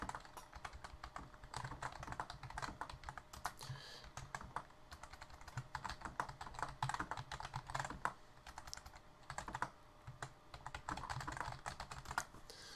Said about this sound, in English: My mechanical keyboard.